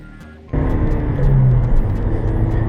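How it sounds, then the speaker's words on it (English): A 2014 Honda Civic Si sedan pulls away, its engine and road noise rising abruptly from a quiet idle to a loud, steady drone heard from inside the cabin. "So let's see how this Civic Si drives."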